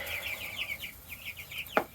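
Young chicks on a homestead, heard as a rapid series of high, soft peeping chirps with a sharper single call near the end, fairly close and alone.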